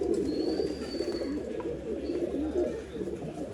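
A pair of pigeons, a Tamral male and a Jack female, cooing in a low, continuous murmuring burble, close and steady, with a faint higher chirp and soft ambient noise behind.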